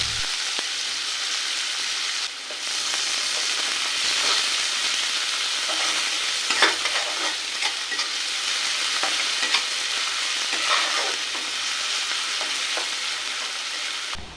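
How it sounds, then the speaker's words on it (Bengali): Onions sizzle in hot mustard oil with a loud, continuous frying hiss, and occasional stirring scrapes and taps rise over it from close by. "দিয়ে দিলাম কিছুটা পরিমাণ সরিষার তেল আর দিয়ে দেব পেঁয়াজ।"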